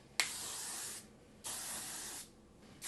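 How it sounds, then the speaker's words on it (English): Two long bursts of aerosol hairspray, each hissing steadily for about a second with a short pause between, close and fairly loud. "So I'm going to start with the hairspray. I'm going to lift the curls out and spray as I go."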